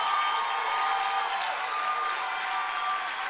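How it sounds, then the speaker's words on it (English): A church congregation in Orlando applauds in a dense, continuous wash of clapping that stays steady and fairly loud from start to finish, with no one speaking over it. "Keep clapping your hands."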